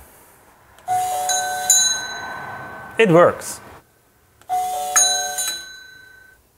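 A mechanical doorbell, set off by a Nest Hello video doorbell, rings twice indoors with bright metallic dings that ring out and fade. A short spoken remark falls between the two rings.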